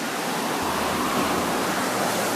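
Ocean waves surging against rocks on the Pacifica coast of California, a loud continuous roar of surf close by with a low rumble building underneath, no voices.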